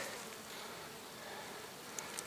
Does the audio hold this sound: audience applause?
no